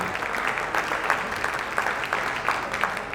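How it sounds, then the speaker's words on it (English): A crowd applauding steadily at a gun auction, a dense patter of many hands clapping throughout. "Round of applause, guys."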